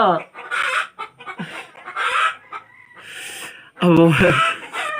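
Hens cluck and cackle loudly nearby in uneven bursts, mixed with human voices, and the noise swells sharply toward the end.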